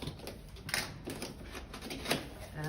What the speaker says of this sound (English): so I'm just gonna cut open the seal.